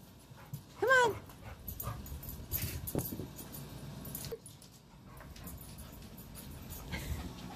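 A dog gives a short, high whimpering yip near the start, followed by shuffling and movement noises at close range; a few brief vocal sounds occur but no clear talking.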